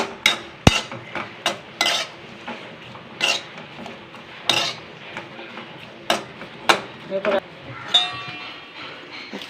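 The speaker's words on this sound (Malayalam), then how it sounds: "ഇത് വെണ്ടയ്ക്ക് വറക്കട്ടെ കേട്ടോ" Metal utensils clink and scrape against a pan in repeated sharp knocks, with a faint sizzle underneath as okra is fried and stirred nearby.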